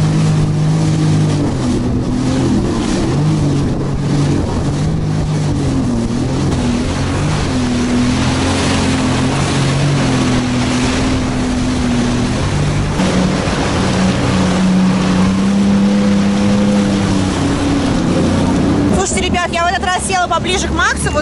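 Jet skis ride over sea waves, their engines droning loudly and steadily up close as the hulls slap the water, with wind rushing past and people talking under the noise.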